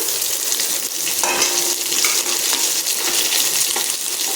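Chopped onions and spices sizzle and fry in hot oil over a low gas flame for a dhaba-style paneer masala gravy, with steady, close crackling and occasional stirring scrapes throughout.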